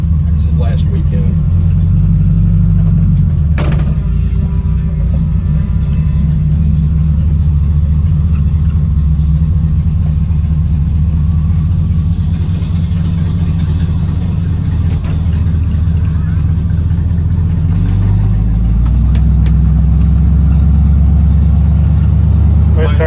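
Old custom-built car with rotted-out mufflers running loud and rough, a steady deep rumbling idle throughout with people talking over it.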